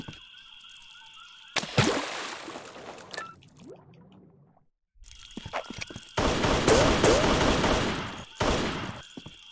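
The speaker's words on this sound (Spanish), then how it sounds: "el sonido de los disparos también mola lo suyo" Bursts of rapid electronic gunfire in the video game Tomb Raider crackle loudly, with a sustained alarm-like tone droning underneath and a quiet gap between the two volleys.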